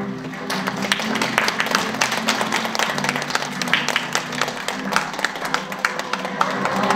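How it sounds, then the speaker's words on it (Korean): An audience of parents at an academy briefing on the 2028 university admissions reform clapping to welcome the second-session lecturer, a steady patter of handclaps over room murmur. "큰 박수로 모시겠습니다"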